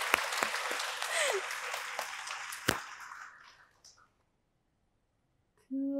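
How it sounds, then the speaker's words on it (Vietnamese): Studio audience clapping on a Vietnamese dating show, moderate and fairly close, with a few sharp claps standing out, fading into silence before a voice briefly starts at the very end. "Mọi người vỗ tay cho em một xíu."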